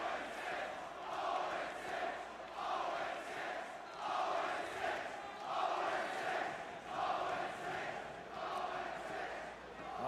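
An esports arena crowd chanting at player Snoopy during a Call of Duty Champs winners bracket final, voices swelling in steady rhythmic waves, somewhat distant and diffuse, with no clear speech on top.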